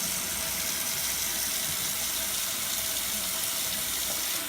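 Tap water runs steadily into a sink while soap is being felted, a constant close splashing hiss with no breaks and no one talking.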